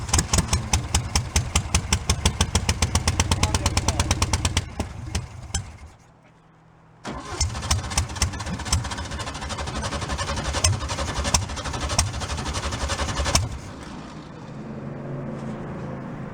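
Rotten old VW bus engine, left 40 years in a junkyard, cranks with rapid rhythmic chugging, briefly dies down, then catches and runs in a rough, uneven, loud idle before settling lower.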